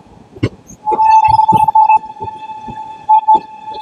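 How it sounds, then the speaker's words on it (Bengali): Shalimar–Puri Sri Jagannath Express pulling into Santragachi Junction, a loud, steady train horn blaring over rumbling wheels and repeated clanks of the rail cars, with a second shorter horn blast near the end. "শালিমার থেকে ছেড়ে 4 কিলোমিটারের ট্রেন জার্নি সম্পূর্ণ করে নির্ধারিত সময় থেকে 4 মিনিট লেট করে আমাদের ট্রেন শালিমার পুরী জগন্নাথ এক্সপ্রেস এসে পৌঁছালো তার প্রথম স্টপেজ সাঁতরাগাছি জংশনে"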